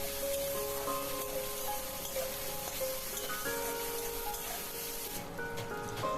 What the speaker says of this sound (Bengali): দিয়ে দিলাম কুচনো টমেটো, দিয়ে খুব ভালো করে ভেজে নেব।